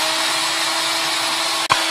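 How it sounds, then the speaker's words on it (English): Power drill boring a hole into a tough tail, a steady loud whir held throughout, briefly dipping near the end before resuming, close and alone without talk. "so I'm going to drill a hole into it."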